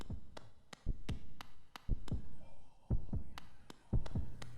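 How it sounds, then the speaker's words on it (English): Creepy heartbeats in Hollow Knight, in the Grimm Troupe area: deep, booming paired thumps repeat at a slow, even pulse over a hushed background, loud and close with no talk. "Damn creepy heartbeats."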